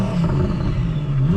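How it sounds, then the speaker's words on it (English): A 1000-horsepower twin-turbo Audi R8 engine revs in a steady, loud, close-up rumble that swells slightly near the end, with no talking over it. "Give it a couple revs for you."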